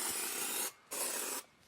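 Canned spray foam insulation, BEEST brand, hisses out of its nozzle in two steady bursts with a short break between them. The sound is close, loud and airy, with no talk over it.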